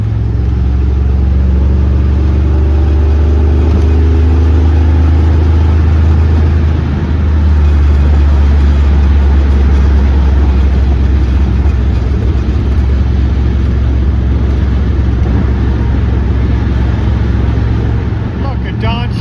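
A Dodge Challenger cruising on a highway in light evening traffic, with a loud, steady low road and engine drone throughout and tire rumble under it, a voice speaking in the cabin.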